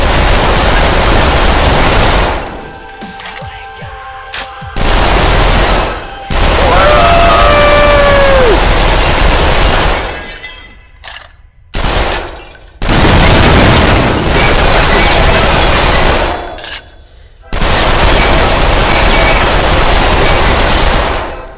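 Loud gunfire rings out in the Lethal VR shooting game as cans are shot: heavy booming bursts and rapid volleys, broken by short pauses and a few quiet gaps.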